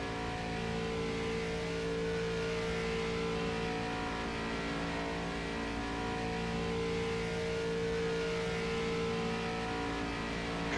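A race car in a video game laps the Talladega superspeedway oval, its engine droning at high revs as one loud, steady, continuous whine with a faint change in pitch and nothing else over it.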